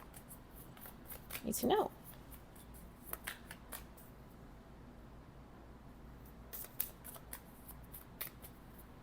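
Tarot cards are shuffled close by in soft, quick riffling bursts with small taps between them, while a voice speaks briefly near the start.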